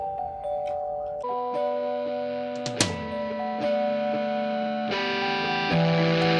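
Bright ringing bell tones layered in a recorded song, sustained chimes over distorted instruments, with a sharp struck accent midway.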